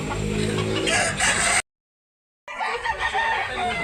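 A gamecock at a rooster market in Talisay, Cebu crows and clucks loudly at close range, broken by a brief silent gap, with market noise around it.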